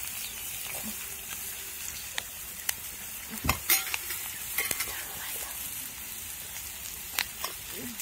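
Cauliflower and onion stir-frying with spices in a pan, giving a steady close sizzle with scraping stirs and occasional sharp utensil clinks against the cookware.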